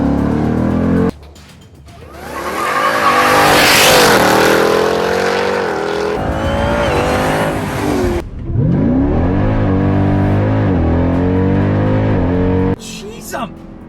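A 900-horsepower Jeep Trackhawk launches hard from a standstill with a loud, rising engine roar, revs swelling then dropping with gear changes, a brief quieter gap mid-run, and a near, powerful exhaust note throughout.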